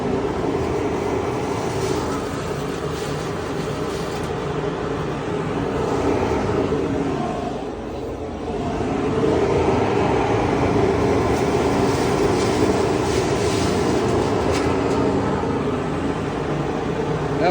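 A homemade wood chipper's motor runs wide open, producing a loud, continuous roar with grinding, rattling texture that dips briefly midway and then surges back, steady throughout with no talking.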